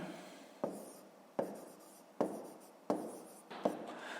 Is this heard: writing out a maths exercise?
yes